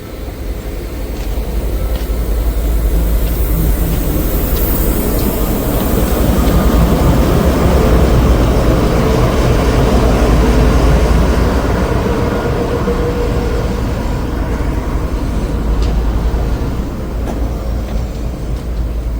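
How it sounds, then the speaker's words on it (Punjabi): A heavy goods train runs through a railway station at Dhuri without stopping, a loud low roar with rattling wheels that stays steady throughout. "ਇੱਕ ਗੁੱਡਸ ਟ੍ਰੇਨ ਆਈ ਆ ਕੋਈ"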